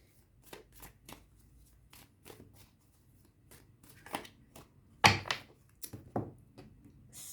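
A deck of cards being shuffled and cut during a tarot reading, a run of soft riffling rustles and crisp snaps with a sharper slap near the middle, close up in a quiet room.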